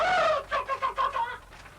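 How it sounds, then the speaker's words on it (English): Free-range farm hens cluck in a quick series of about five or six rising, bright calls, close and clear with no talking over them. "My hens are free range."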